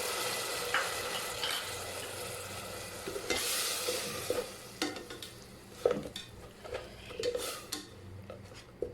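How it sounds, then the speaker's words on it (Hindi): Ginger garlic paste and tomato paste frying in oil for Hyderabadi mutton masala, with a steady sizzle under irregular scrapes and clinks of a spoon against the pan, growing more sporadic toward the end. "और इन्हें भून लूँगी।"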